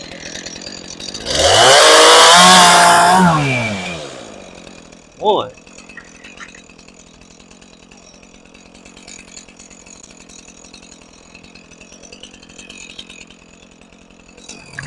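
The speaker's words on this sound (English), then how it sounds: "Gotta love the steel chainsaw." A steel chainsaw cuts into a log for a log shed build, a loud, dense buzzing burst of about three seconds that then falls to quiet outdoor ambience, with brief speech afterward.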